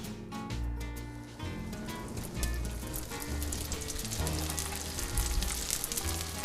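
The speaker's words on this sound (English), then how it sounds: "One by one, we're frying all of them." Kushur, Mongolian meat pastries, frying in a pan with a steady, dense sizzle and crackle of hot oil that continues throughout without talk.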